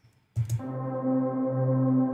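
A sustained synth pad holds a root, fifth and octave chord as a single one-shot. After a brief noisy onset it swells and rings evenly, alone and up close.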